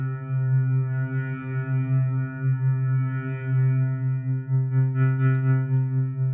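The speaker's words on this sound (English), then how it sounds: "here's your reverb." A sustained tone from the SpaceCraft granular synth app, with rich harmonics, hums steadily, washed in reverb that gives it a spacious, smeared quality, no voices.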